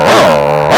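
A person imitates a dog howling at night with one loud, sustained, wavering voiced howl that bends downward and then rises at the end.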